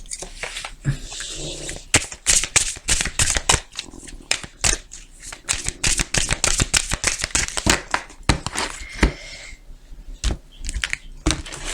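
A deck of tarot cards is cut and shuffled close by, producing rapid, irregular riffling and slapping bursts that run almost continuously, with short pauses between handfuls.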